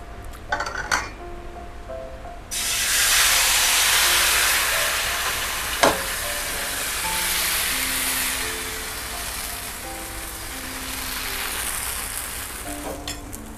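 Batter for Vietnamese beer bánh xèo hits a hot pan and breaks into a loud, steady sizzle. A sharp clink of the pan comes partway through, and the hissing frying goes on until the end.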